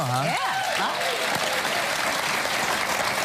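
A television studio audience applauds for the first day of Hanukkah, a dense, steady patter of clapping from a crowd, with a voice speaking over the start.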